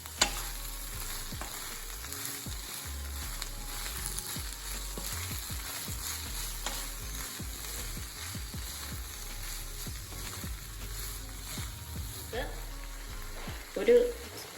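Noodle sauce sizzles in a frying pan as it is stirred, a steady frying hiss with soft scraping strokes throughout and a brief louder knock near the end.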